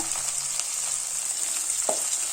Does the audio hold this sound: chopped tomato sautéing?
yes